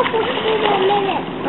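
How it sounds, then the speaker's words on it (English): Children splashing water in a pool, with bursts of splashing mixed with children's voices and chatter throughout. "He's gonna splash you back, Samantha"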